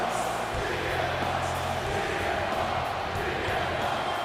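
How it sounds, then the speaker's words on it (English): A wrestling arena crowd in the WWE 2K25 video game roars as CM Punk makes his entrance, a dense, steady wall of cheering that stays loud and continuous throughout. "You can hear this crowd."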